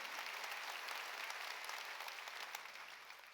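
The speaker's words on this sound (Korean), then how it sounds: "그래서 하나님이 그 성경에 기록한 걸 믿으면 박수로 하나님께 영광을 돌리라는 거예요" A church congregation at a Sunday worship service applauds steadily to glorify God, dense clapping heard from a distance throughout, easing off slightly toward the end.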